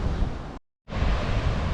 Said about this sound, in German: Die Wellen sind echt gewaltig.